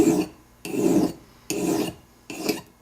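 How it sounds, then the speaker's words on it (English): A metal file scrapes across a jewelry bezel in four long, separate strokes, each a harsh rasp with a short pause between them, close and clear, with no voices. "And I'm filing nice long strokes, not little tiny ones."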